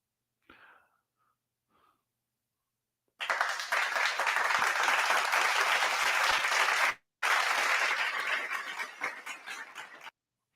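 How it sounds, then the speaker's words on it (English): A crowd gives a burst of dense, sustained clapping lasting several seconds, briefly cut off, then resuming before it fades out, after a few faint sounds at the start. "big claps for Keys for getting us that new sponsor"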